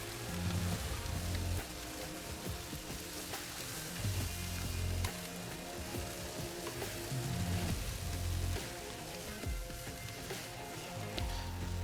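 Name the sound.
pork belly sizzling as pieces are flipped on Pit Barrel Cooker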